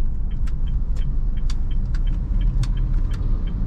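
A car pulls away slowly in low gear as the clutch is released and throttle gently added, a continuous low engine rumble heard from inside with faint ticking and clicking on top.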